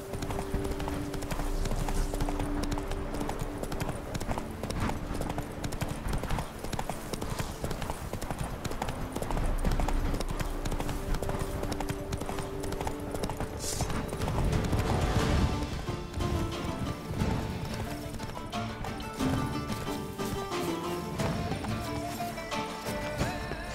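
Horse hooves clip-clopping at a steady gallop in The Witcher 3: Blood and Wine, a continuous rhythmic beat with a brief whinny, layered over in-game music and ambience, with a voice urging the horse on.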